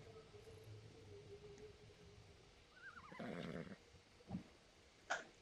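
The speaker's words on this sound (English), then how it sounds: "stop neighing in my ear." A horse in the ARK Survival Ascended video game lets out a wavering whinny and neigh, fairly faint over a steady background hum, followed by a couple of short snorts or hoof clicks.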